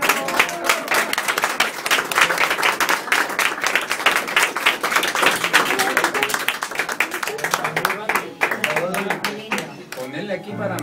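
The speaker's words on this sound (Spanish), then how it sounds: "Un aplauso, pues." A crowd at a gathering honoring a woman who fishes claps steadily, a dense, loud patter of many hands that continues throughout with some voices mixed in.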